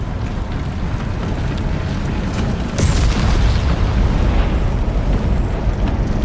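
Explosions in the survival game Dune Awakening rumble as a deep, sustained roar, with a louder burst swelling about halfway through and a heavy low-end boom that keeps rolling without a clear break.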